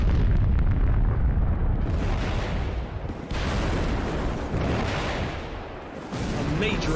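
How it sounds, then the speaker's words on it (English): A major factory explosion in a city, with fire already burning, sounds as a loud, sustained roaring rumble that surges and dips in waves, with brief lulls before swelling again. "a major explosion rocks the city"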